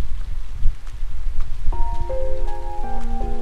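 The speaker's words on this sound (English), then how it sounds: "I didn't even realize because of the rain." Game rain in The Legend of Heroes: Trails of Cold Steel, a constant hiss of rainfall on surfaces with low rumbling patter, joined halfway through by sustained musical chords that play over the downpour.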